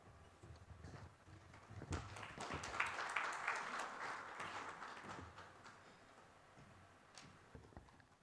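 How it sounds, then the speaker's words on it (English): An audience at a Ugandan high-tech stakeholder forum claps after a keynote address, scattered claps swelling into a brief round of applause in a large room, then thinning to a few isolated claps. "A round of applause for Mr. Rab."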